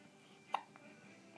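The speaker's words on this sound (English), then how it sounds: "What do we do about your hiccups?" One short, faint hiccup jumps out of quiet room tone, a brief sharp catch with a softer echo just after.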